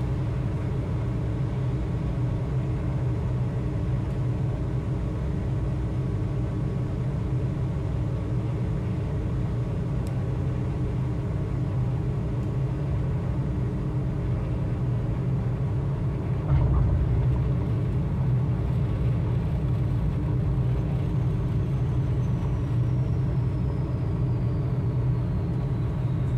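The cockpit of a Diamond DA62 twin-engine plane in Microsoft Flight Simulator 2020 hums with a steady droning engine rumble during landing, a brief thump partway through as the engine note continues unchanged.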